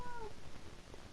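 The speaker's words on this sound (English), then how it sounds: "We've got a cat." A cat in the game 60 Seconds gives one short, clear, rising-then-falling meow at the start, followed by low background noise.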